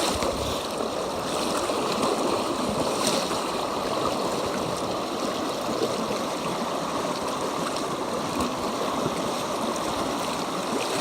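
Steady rushing of the fast-flowing Heber River, continuous and full, with no voices over it.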